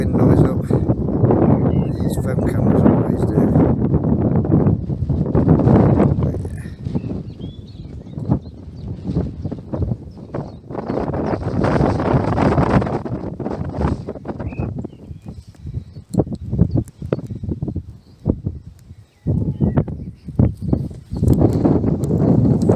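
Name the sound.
strong wind on a hilltop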